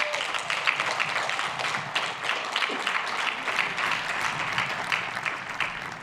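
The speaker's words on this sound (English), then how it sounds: "I hope you'll join me in another round of applause for their service" Sustained applause from a large outdoor crowd at a university graduation ceremony, a dense, steady wash of clapping from many hands heard at a moderate distance, with no talk.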